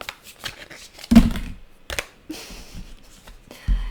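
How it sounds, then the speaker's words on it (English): A deck of tarot-style cards is shuffled by hand at close range, with several short riffling bursts and soft slaps separated by brief pauses; no talking. "Let's shuffle more."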